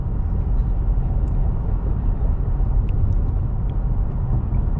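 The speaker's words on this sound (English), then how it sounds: "This is our bumpy road test." Constant low rumble and road noise inside a 2016 Toyota Tacoma TRD Sport 4x4 driving over a badly bumped road, with faint knocks and rattles scattered through the steady drone.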